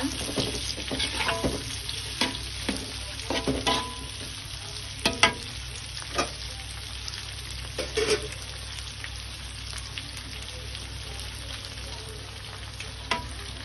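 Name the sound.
shrimp being stir-fried with wilted chili in a pan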